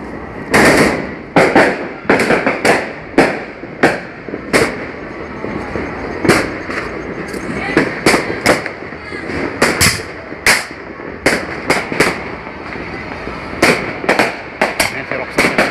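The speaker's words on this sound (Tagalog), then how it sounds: "Simula na putukan dito." Firecrackers and fireworks at a New Year celebration burst in a rapid string of loud, sharp cracks and bangs, some overlapping and some spaced apart, with crackling in between and occasional voices in the background.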